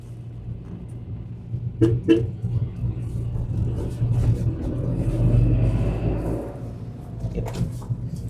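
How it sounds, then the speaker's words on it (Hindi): A car engine rumbles low and steady in second gear, rising slightly as it pulls forward, with a couple of faint clicks early on and no voices. "देखिए मैं सेकंड गियर लगा लेता हूँ सीधे"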